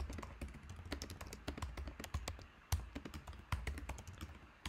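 Rapid, steady clatter of keys on a computer keyboard as a code comment is typed, close and clear with a few heavier keystrokes standing out, no voices.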